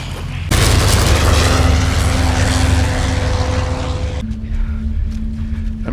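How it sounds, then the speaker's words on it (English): Propeller warplanes roar overhead in a war movie, a loud, dense engine drone that swells in suddenly and holds steady before easing off into a quieter rumble. "just the planes flying overhead"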